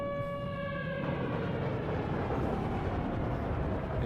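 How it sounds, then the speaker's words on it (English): An air raid siren plays back from a video, opening with a steady tone and then giving way to a loud, rough, broadband roar that fills the rest of the clip, with no voices. "you would hear this, like, air raid siren shit,"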